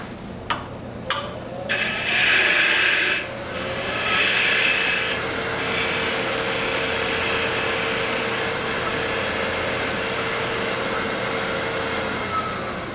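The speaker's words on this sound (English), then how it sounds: "next I'm gonna go to a beading and parting tool and just take away this" Woodturning lathe cutting with a beading and parting tool, taking away a taper: a steady loud rasping, scraping hiss over the motor's hum, with short sharp bursts at the start, then continuous cutting.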